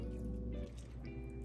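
Buffalo chicken alfredo pasta is tossed with tongs in a skillet, giving wet squishing and sticky, slippery sounds of sauce-coated noodles being stirred, close up with no talk.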